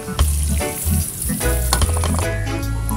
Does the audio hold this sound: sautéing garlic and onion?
yes